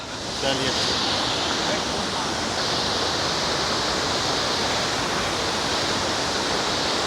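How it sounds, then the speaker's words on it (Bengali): Lodh Falls at Netarhat in Jharkhand, the state's tallest waterfall, pours with a dense, loud, unbroken roar of rushing water throughout. "কি সুন্দর ঝর্ণাটা বইছে শুধু একবার দেখো এই লোদ ওয়াটারফলস"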